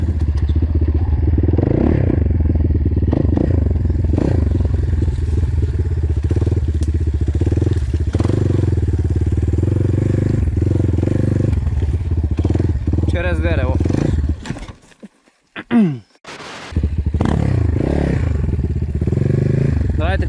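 A KOVI Advance 300 motorcycle with a punctured wheel rides over rough ground. The engine drones loudly with clatter and thumps, dips briefly near the end, then revs back up.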